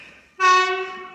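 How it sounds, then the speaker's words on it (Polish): An ET22 electric locomotive hauls a freight train through Poznań Starołęka station, sounding a loud, sustained two-tone horn that starts abruptly after faint rumble and holds steady for nearly a second. "Pociąg towarowy. Z bykiem. ET22"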